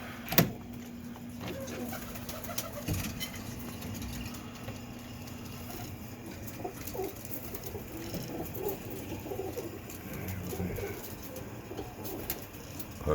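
Roller pigeon cocks cooing in a loft, soft repeated coos over a steady low hum and faint rustling, fairly close.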